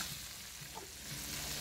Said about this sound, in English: allow the rice to fry for about 2 to 3 minutes